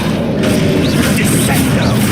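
Spell blasts explode in the Hogwarts Legacy video game, producing a loud, continuous booming rumble with overlapping bursts and crashes throughout.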